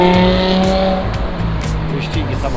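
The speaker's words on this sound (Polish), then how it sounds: "wyścigi samochodowe" Cars racing on a street in Pristina, Kosovo, engines droning loudly and tires squealing in a steady wash of traffic noise while someone talks over it.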